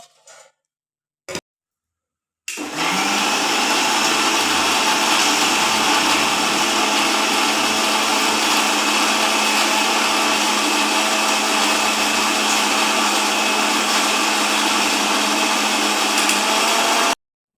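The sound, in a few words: blender blending mango juice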